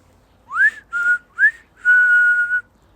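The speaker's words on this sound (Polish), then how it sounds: "Ty, a co ty tam gwizdasz?" A person whistles a short tune: three quick chirping notes followed by one long held tone, clear and close with no talking.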